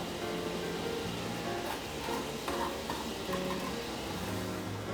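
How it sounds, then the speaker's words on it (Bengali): Sugar and a spoon of water heating in a pot over medium flame for caramel, giving a soft, even bubbling hiss with faint stirring touches and no voices. "দুই টেবিল চামচ পরিমাণ চিনি আর এক টেবিল চামচ পানি একটা হাঁড়িতে জাল দিতে থাকবো"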